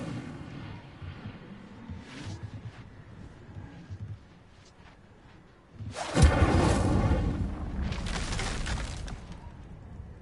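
An Incendio fire spell cast in a video game erupts as a loud whooshing burst with a deep rumbling impact, roaring for a couple of seconds before a second flaring surge, after quieter earlier spell effects.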